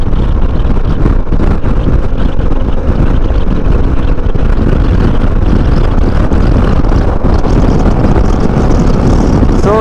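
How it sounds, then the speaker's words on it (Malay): Riding a Suzuki V-Strom 250 SX motorcycle, with heavy wind roar buffeting the microphone and largely masking a low, continuous engine drone that stays loud and constant throughout. "aku sekarang ni sedang menunggang Wistrom 250 SX"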